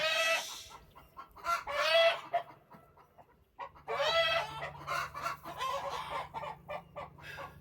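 Chickens cluck and squawk loudly in bursts, close by, with a rooster-like call mixed in; no talking, steady farmyard hum underneath.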